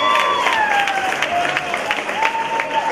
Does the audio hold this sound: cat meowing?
no